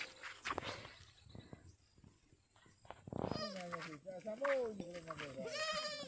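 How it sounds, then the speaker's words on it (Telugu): Several goats in a herd being tended during heavy cyclone rains bleat with wavering, nasal calls, overlapping one another, with quieter shuffling and rustling between the cries. "ఇవన్నీ మేకలు."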